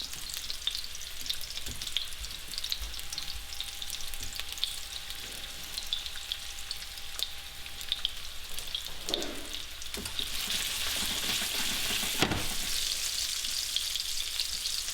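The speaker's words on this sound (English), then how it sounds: "just lightly brown them until you have something like this" Meatballs browning in a frying pan give a steady, even sizzle throughout, with a few louder spits and pops near the end.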